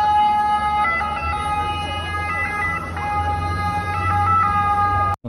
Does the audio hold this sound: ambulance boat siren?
yes